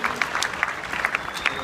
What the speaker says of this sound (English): Let's give them a big round of applause for all the time that they spent today.